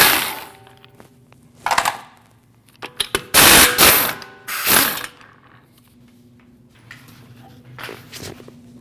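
A ratchet wrench works at the five 19 mm lug nuts on a raised car's wheel, with bursts of loud rapid clicking and clattering between quieter pauses and a faint steady hum underneath.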